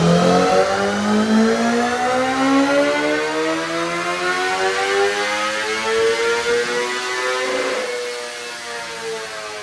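A 2025 Honda CBR1000RR-R SP motorcycle with a flashed ECU and prototype intake stacks runs on a dyno, its engine loud and close, pitch climbing steadily through a long rising rev before easing off.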